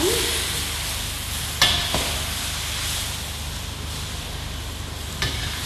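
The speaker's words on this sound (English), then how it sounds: "And now we just stir fry that around" Soy ginger beef sizzles steadily as it is stir-fried in a wok, a constant close hiss broken by a few sharp scrapes of the utensil against the metal.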